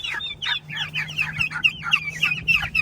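Chickens on a rural Texas homestead cluck in quick, overlapping bursts close by, with a faint steady hum underneath.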